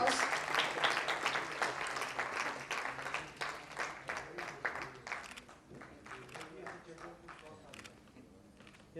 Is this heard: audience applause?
yes